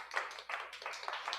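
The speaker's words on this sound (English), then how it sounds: "Round of applause for everybody for coming out." A few people clap in scattered, uneven bursts at the end of an online community meeting, a thin and sparse patter with no talking over it.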